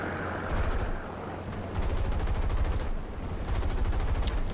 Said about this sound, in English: Putting shots to BF-110 at range.